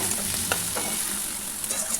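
Oil sizzles steadily in a pan while ingredients fry for an egg and poppy seed dish, a close, even crackle with a few soft stirring scrapes and no voices.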